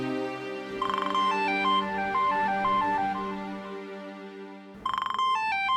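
A melodic phone ringtone plays a descending chime phrase, pauses briefly, then starts again near the end, clear and close.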